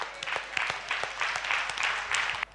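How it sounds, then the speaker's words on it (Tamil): A church congregation claps together during a Tamil worship service, a sustained burst of applause filling the room at moderate volume for a couple of seconds with no talk over it. "கைத்தட்டு."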